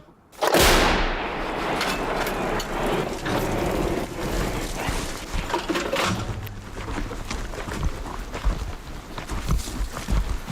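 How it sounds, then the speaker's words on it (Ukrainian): A single loud 155 mm howitzer blast booms up close, followed by a long rumbling echo that fades under scattered background noise. "Гармата!"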